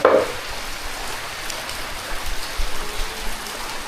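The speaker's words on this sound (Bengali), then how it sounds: "মুসলধারে বৃষ্টি হইতেছে প্রায় পাঁচ ঘন্টা যাবৎ" A heavy downpour of rain pours in a steady, even hiss of dense drops, loud and continuous, with a few low rumbling surges.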